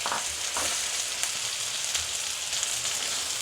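Chopped garlic sizzles steadily in a hot pan alongside chicken, a continuous close crackling fry with faint stirring scrapes, no voices, for a French-style chicken with mushrooms in wine sauce.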